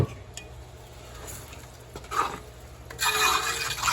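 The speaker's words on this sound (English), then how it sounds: "I can go ahead and add this water now." Four cups of water being poured into a pot of chili make a splashing, rushing pour that swells near the end, over earlier soft stirring and sloshing, close by with no speech.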